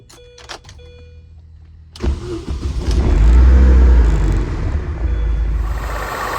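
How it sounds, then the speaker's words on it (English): A Mini Cooper engine cranks briefly after a few faint clicks, then catches and settles into a loud, close, steady running rumble. "We're gonna crank it up and see what happens."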